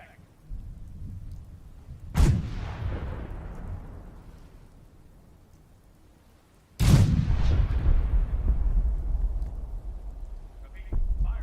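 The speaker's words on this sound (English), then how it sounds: "All batteries, prepare to fire on my mark. 5, 4, 3, 2, 1. Fire for effect!" An artillery barrage in the game Fallout 4, with two massive booming impacts a few seconds apart, each rolling away in a long rumbling decay like thunder, followed by continued low rumble.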